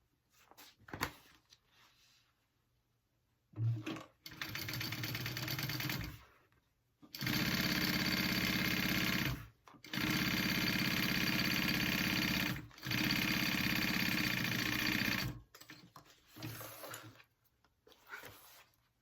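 A sewing machine stitches tote bag pieces together in several sustained whirring runs of a few seconds each, separated by brief pauses, close and steady.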